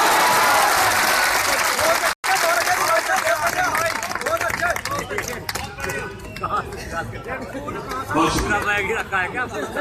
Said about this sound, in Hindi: आपने उस बच्चे के ऐतिहासिक जवाब पर ताली बजाई